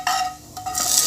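Hot tempering spluttering and sizzling as it is poured into mint chutney, a brief close crackling hiss.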